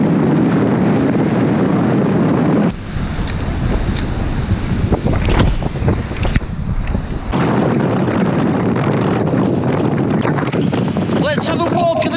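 Strong gusting wind buffets the microphone on a pier during a storm, with a heavy roar of surf and spray crashing loudly throughout.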